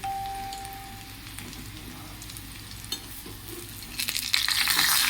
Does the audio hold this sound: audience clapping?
no